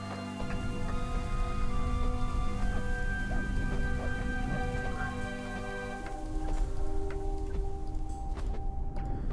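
Blood rain falling in the video game Rise to Ruins, a steady dense patter of drops behind sustained in-game music and tones, continuous and fairly loud throughout.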